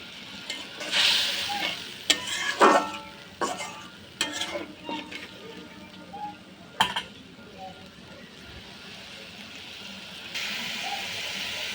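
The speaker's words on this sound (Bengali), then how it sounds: "মশলাটা ভেজে নেব" Bay leaf and cumin fry in a kadai with chilli and turmeric powder and a little water for a rohu fish curry, soft sizzling under repeated scraping and clinking of a spoon against the pan.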